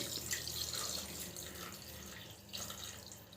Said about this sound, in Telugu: ఇట్లా కారం కూడా కలిపిన తర్వాత ఇప్పుడైతే వాటర్ పోస్తున్నా చూడండి